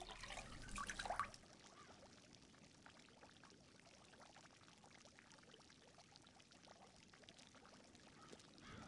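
Water pouring briefly in the Memento Mori video game, a short loud splash near the start followed by a faint, steady trickle of water under quiet game ambience.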